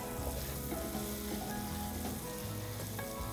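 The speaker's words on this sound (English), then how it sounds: "I'm just going to make sure I'm stirring those so none of these guys get stuck to the bottom." Sausage and onions sizzle loudly in a Dutch oven while a utensil stirs and scrapes the bottom, a thick continuous fry with occasional clinks and low rumbling, heard up close without talk.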